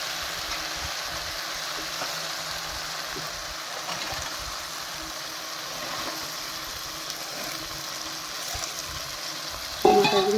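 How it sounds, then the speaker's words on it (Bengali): Peas hit hot spiced oil in a pan and sizzle steadily while frying, a continuous close hiss with occasional stirring, ending in a sudden louder scrape near the end. "এখন এবার এই মটরগুলো মটর দিয়ে দেবো এর মধ্যে"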